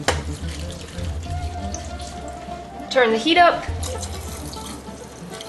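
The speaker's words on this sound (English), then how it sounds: "it's time to add some water." Water is poured into a pot of layered stuffed grape leaves (dolma with meat), a brief splashing rush near the middle that swells and fades, with a person talking over a quiet kitchen background.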